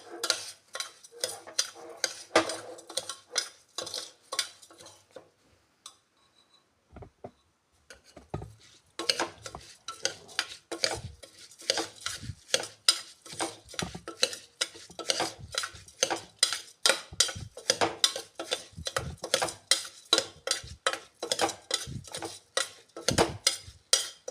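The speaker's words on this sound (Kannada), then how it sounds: "ಒಂದು ಲೋಟ ಹೆಸರು ಬೇಳೆ ಮತ್ತೆ ಒಂದು ಲೋಟ ಅಕ್ಕಿಯನ್ನು ಹಾಕ್ತಾ ಇದ್ದೀನಿ ಸ್ವಲ್ಪ ಹುರ್ಕೋಬೇಕು ಇದನ್ನು" Moong dal and rice being dry-roasted in a pan for sweet pongal, with a utensil scraping and stirring in steady rhythmic strokes and a brief pause partway through, close and fairly loud.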